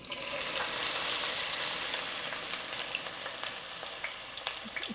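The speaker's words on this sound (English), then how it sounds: "once this heats up, we're going to add the onions" Onions frying in about half a cup of very hot oil, a steady loud sizzle that swells at first then settles into a bubbling hiss with occasional pops.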